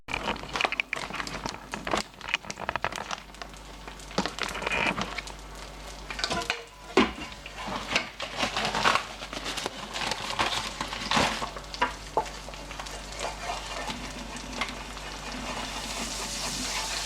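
Flour being stirred into a bubbling chicken-stock sauce in a pan for a chicken pie, with steady scraping, crinkling and sizzling textures throughout, close and continuous, without talk.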